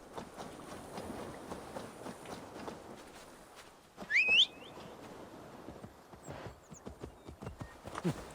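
Horse hooves clip-clop steadily in Assassin's Creed Valhalla, a soft rhythmic walking pattern under quiet game ambience, with a brief whinny-like tonal call in the middle and a slight pickup in hoofbeats near the end.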